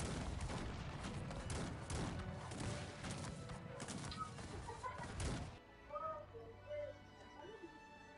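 Prussian musketeers firing volleys in a Cossacks 3 battle: a dense, continuous crackle of musket fire for about five seconds, then it cuts off to quieter scattered game sounds.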